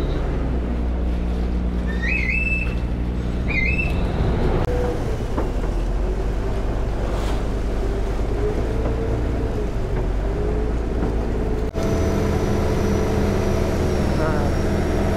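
A passenger boat travels along a river in Bangkok toward Chinatown, its engine droning steadily beneath wind and water noise for the whole ride, with scattered voices on board.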